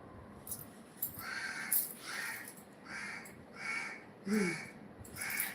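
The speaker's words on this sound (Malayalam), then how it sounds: "കാക്ക ഭയങ്കര ബഹള" Several crows cawing in a series of harsh calls, moderately distant over a noisy background, with a short lower sound near the end.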